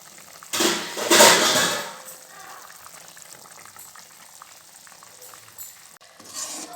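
Mushroom curry simmering in a pan gives a soft, steady bubbling sizzle with a brief louder stir near the start, quiet and close, otherwise heard alone.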